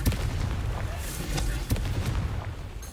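A Confringo fire spell in Hogwarts Legacy bursts with sharp booming blasts, several in quick succession over a steady rumbling game background, with an occasional spoken voice alongside.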